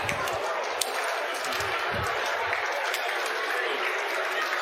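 A conference audience claps their hands together in a fast hand-clapping game at a corporate real estate opening session, producing dense, steady crowd clapping with scattered sharper claps and a low murmur underneath.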